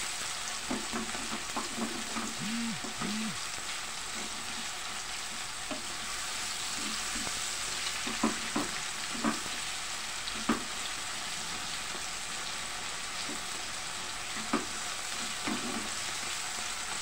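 Tomatoes being pressed and mashed in a sizzling cooking pan, a constant frying hiss under scattered soft scraping and tapping of a utensil, close and moderately loud, without speech.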